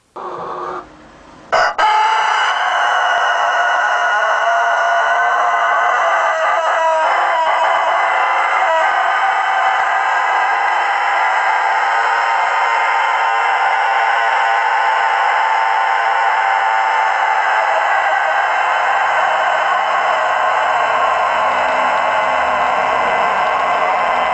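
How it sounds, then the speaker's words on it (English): A Denizli rooster crows loudly and close, one long sustained call that holds steady for most of the clip before slowly trailing off, with a brief rustle at the start. "So if you have not yet seen a Denizli rooster crow, I'm gonna show it to you right now."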